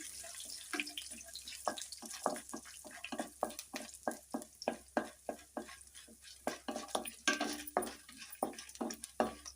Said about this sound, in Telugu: పల్లీలు ఇది కొంచెం వేగిన తర్వాత ఉల్లిపాయలు పచ్చిమిర్చి టమాటా వేసుకున్నాను